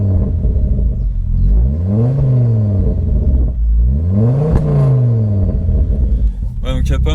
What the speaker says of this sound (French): Je vais mettre des petits coups de gaz.